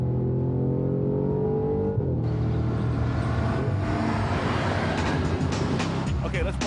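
A 2013 Audi RS5 coupe engine revving while driving, a loud, continuous drone that rises in pitch as the car accelerates, heard from inside the cabin with a voice talking over it.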